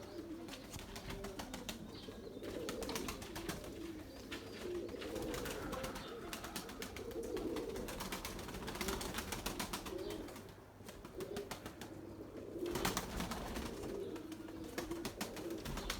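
Pigeons coo continuously at close range, a dense rolling murmur of overlapping calls with occasional wing flaps, and no talking.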